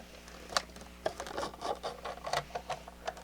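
Small screws are worked loose from the chassis of a Roberts R600 table radio, giving scraping, rasping and rubbing scratches in short irregular bursts, close up, with no voices.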